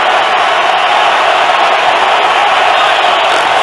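A roaring NFL stadium crowd during a New England Patriots game, a constant loud wall of cheering and noise with no letup.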